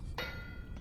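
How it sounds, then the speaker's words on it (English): A smith's hammer strikes an iron bloom in the game Vintage Story, giving one sharp metallic clank that rings briefly, followed by a fainter second tap. "You can just bash the black bits off with the hammer"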